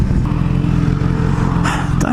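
A BMW S1000XR motorcycle engine drones loud and steady while riding, with wind rumble and a brief burst of noise near the end.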